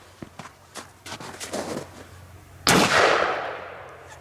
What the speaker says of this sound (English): I'm gonna whale on this with a 7/8 ounce load of number 7s.